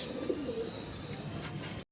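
Green neck Budapest pigeons at a farm give a soft, low coo near the start over a steady background hum, with the sound cutting off abruptly.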